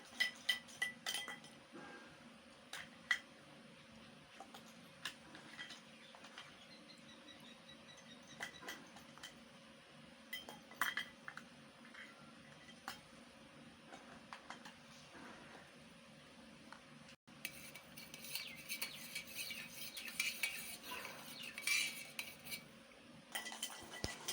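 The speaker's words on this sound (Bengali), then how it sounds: "কিছুক্ষণ এইভাবে ঘুটবো যতক্ষণ না চিনিটা গলে যায়" A spoon clinks against glass while stirring sugar into water for lemon sherbet, quiet repeated metallic taps and scrapes in a steady irregular rhythm, growing busier near the end.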